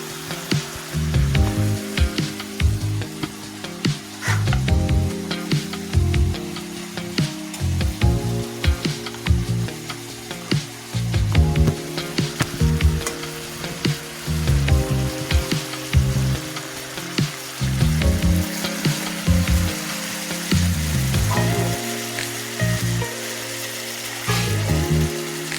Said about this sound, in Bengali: এখন দিয়ে আমি ভালোভাবে নাড়াচাড়া করে নেব।